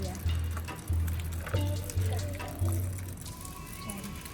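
Water is poured over variegated monstera cuttings in a pot, a gurgling, splashing trickle in several short bursts, with a voice faintly present underneath.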